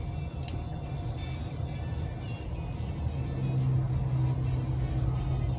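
A steady engine drone from a car driving in a Tesla arcade racing game inside a 2021 Tesla Model 3 runs throughout, building slightly louder toward the end.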